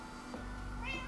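A calico cat in Minecraft gives a short, clear meow, then a second higher one, quiet and alone against a faint hum.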